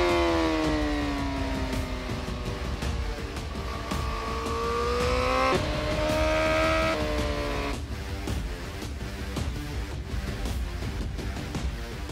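A 2020 Honda CBR1000RR-R Fireblade SP motorcycle screams at top speed, the high engine whine climbing steadily through upshifts with brief dips, loud and close with heavy wind rush and no talking.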